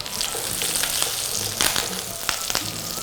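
Curry leaves and vadagam sizzle and crackle in hot oil for a tempering to pour over kootan choru, a steady loud fry with sharper pops and stirring scrapes near the pan.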